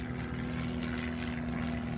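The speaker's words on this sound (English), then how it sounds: "There's a plane flying over." A propeller airplane drones steadily overhead outdoors near a cactus, a continuous even hum that neither rises nor fades over two seconds, with no voices.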